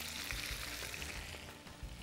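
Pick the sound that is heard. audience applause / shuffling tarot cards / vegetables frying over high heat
vegetables frying over high heat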